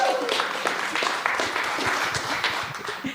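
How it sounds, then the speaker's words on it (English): Conference attendees at a health forum's lightning talks give steady applause to welcome a speaker to the stage, with a voice heard briefly at the start. "we know the sort of round of applause she needs"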